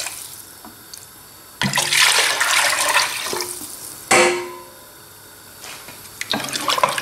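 Water poured into a pot of shrimp and vermicelli chorba soup made with tomato concentrate, two loud rushing splashes a couple of seconds apart, close up, followed by softer trickling.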